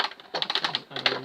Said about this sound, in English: We'll just snip, snip, and snip.